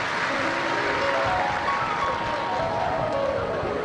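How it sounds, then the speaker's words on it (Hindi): Devotees at a Shiv Mahapuran katha in Shirpur, Dhule, clap loudly in welcome, giving a dense, even wash of applause that carries on without pause. "एक बार शिरपुर के सभी भक्तों के लिए जोरदार ताली बजाकर स्वागत वंदन अभिनंदन।"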